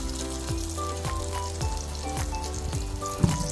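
Tapioca cutlets sizzling in hot coconut oil, a steady close crackle with soft pops and bubbling, alone without talk.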